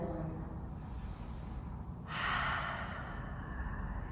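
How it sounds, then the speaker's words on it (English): During a full-body stretching routine, a person breathes slowly and audibly, with a long, close exhale swelling partway through, set against soft background noise. "We'll breathe here for 3, 2, and 1."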